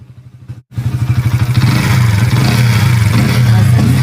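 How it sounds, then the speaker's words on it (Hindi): A Bajaj Pulsar N160 motorcycle engine idles with a loud, throbbing exhaust pulse, briefly cutting out, then revving up into a steady, deep rumble close by. "इसका एग्जॉस्ट काफी लाउड होता है"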